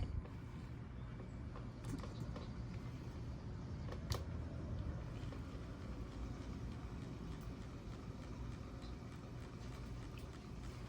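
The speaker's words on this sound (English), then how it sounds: "now you can see that pump is working properly" A dishwasher circulation pump runs on a jumper starter as a steady, low mechanical hum and rumble with faint rattles, continuous and quiet throughout with no speech.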